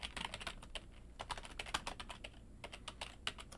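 Rapid, close keystrokes on a computer keyboard as a file name is typed, crisp clicks in quick uneven bursts with short pauses, no voices.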